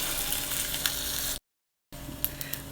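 Mustard seeds, ginger and cashews sizzling in hot oil in a pan, a soft constant crackle with small pops that cuts out briefly and then resumes.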